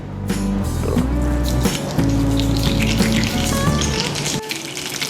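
Mustard seeds splutter and crackle in hot coconut oil as a tempering for vada koottucurry, a steady sizzling hiss lasting throughout with a soft tonal background running beneath it.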